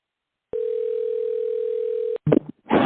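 A telephone dial tone sounds loud and steady for about a second and a half while a call is placed to a studio, then cuts off into short bursts of line noise and clicks.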